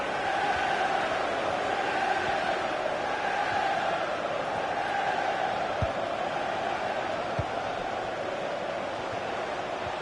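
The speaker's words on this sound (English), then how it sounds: "Listen to the crowd. They're trying their best." A stadium crowd in the FIFA 21 football video game roars and chants as a steady, broad wash of noise, with a couple of faint thumps underneath.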